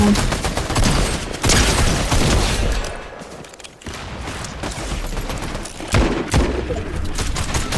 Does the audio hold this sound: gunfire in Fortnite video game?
yes